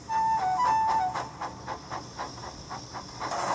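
A steam locomotive puffing, a whistle note at the start, then a steady series of rhythmic chuffs and hissing bursts, moderately close.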